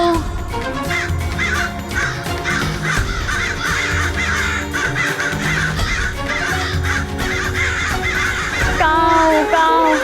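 Loud crow caws repeat over a dense musical backing, with voices partly imitating the calls.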